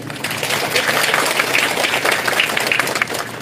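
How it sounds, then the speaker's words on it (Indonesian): Church congregation clapping together in a dense, steady patter, loud and close, continuing throughout without a break. "Ini tepukan ke sekolah dulu, tepukan dulu."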